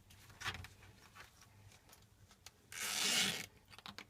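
A zipper on a duct tape wallet rasps open and closed close by, a short zip followed by a longer, louder one, with soft fabric rustling between.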